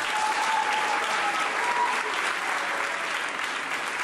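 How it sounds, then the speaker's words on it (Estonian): Sustained applause from a school audience at a gymnasium's Olympic games event fills the space, dense and steady clapping throughout with no pauses. "Aplaus veel kord talle!"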